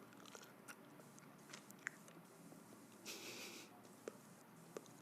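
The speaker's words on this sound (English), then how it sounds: "I'll try to chew what's left of this gum." Gum is chewed right against the microphone, giving soft, wet, sticky clicks and smacks at an irregular pace, quiet overall, with a brief breathy hiss partway through.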